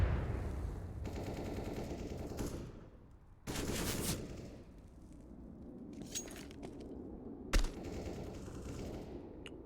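Automatic rifle fire sprays in rapid bursts during a competitive Counter-Strike match on the Overpass map, with dense rattling volleys broken by brief pauses and a few sharper single cracks, fairly close and loud.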